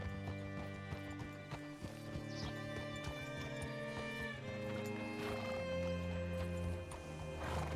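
Horse hooves clip-clopping with occasional whinnies in the open-world Western game Red Dead Redemption 2, steady and close over a continuous bed of game music.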